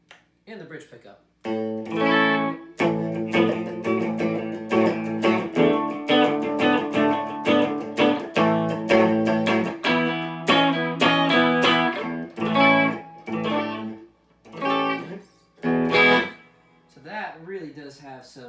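Bright, twangy electric guitar on a 2019 Fender Limited Edition Cabronita Telecaster, bridge pickup, strumming chords and picking phrases steadily, close and loud, with short pauses and a final rattling strum.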